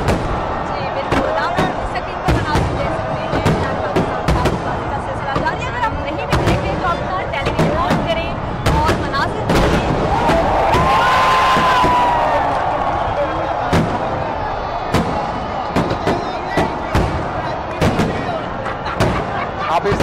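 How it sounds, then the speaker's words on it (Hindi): Fireworks burst over an Independence Day celebration at Minar-e-Pakistan in Lahore, rapid loud repeated bangs and crackles amid a large crowd's roar and a rising whistle. "आप इस आतिशबाजी के साथ लोगों का शोर भी सुन सकते हैं"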